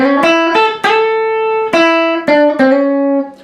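Clean electric guitar plays a short blues phrase of five plucked notes, some sliding into pitch, each ringing out before the next.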